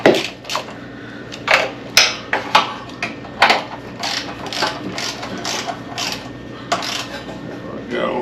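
Ratchet tightening the starter bolts on a John Deere 652R mower: short bursts of clicking pawl ratcheting, with loud, sharp clicks early and softer irregular clicks later, close up and without talk.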